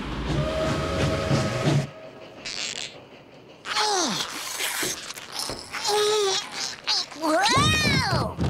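Cartoon steam train from a Woody Woodpecker episode, with rumbling rail noise and several bright, sliding whistle blasts mixed with frantic cartoon sound effects, all close and loud.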